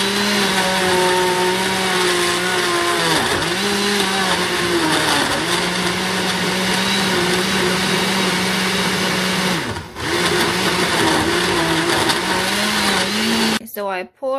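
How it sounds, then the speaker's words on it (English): A blender whirs loudly and steadily as it purées sweet potato for a Jamaican sweet potato pudding, its motor pitch dipping now and then before it cuts off near the end. "But I choose to put it in the blender and then put it on grate."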